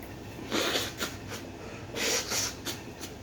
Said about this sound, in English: There you go with that blowing your nose again.